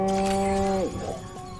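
A cow moos once in Destroy All Humans, a loud, close, steady low call that breaks off partway, followed by quieter game ambience.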